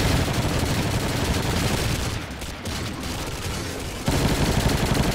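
Dense, continuous gunfire in the video game Doom (Alien Vendetta), loud and sustained with rapid overlapping shots, dipping briefly mid-clip before the barrage surges back at full intensity.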